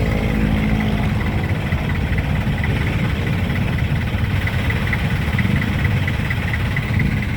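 Motorcycle engine on the Quirino Highway in Quezon City, a continuous dense idling rumble with steady vibration, close and loud, unbroken street-traffic noise throughout.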